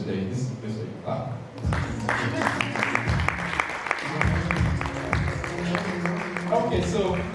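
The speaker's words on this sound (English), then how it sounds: "This is the best way to clap." An audience at a digital parenting workshop claps in steady, dense rhythm, with a voice talking loudly over the applause throughout.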